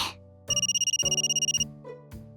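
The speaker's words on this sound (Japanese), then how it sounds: "着信音が違うんだけど" A smartphone ringtone plays a repeating bright, electronic ringing pattern in quick regular pulses, loud and close with no one talking.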